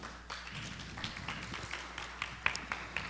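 A modest audience at a finance panel in Mexico claps to welcome a panelist, fairly faint scattered hand claps in an uneven rhythm, with individual sharp claps standing out over a quiet room.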